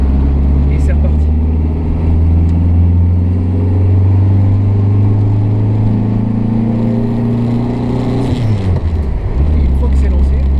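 1950s Renault Frégate Domaine estate car engine running while driving, a loud, close interior drone with a slowly rising pitch, then a gear change near the end before the note settles again.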